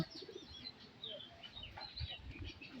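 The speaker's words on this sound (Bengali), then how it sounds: "এরা সাধারণত সবাই দলবদ্ধভাবে চলে কবুতরগুলো এগুলো সবগুলো দেশি কবুতর" A flock of local desi pigeons rests together at midday after feeding, giving soft, faint cooing and scattered fluttery calls, quiet and close.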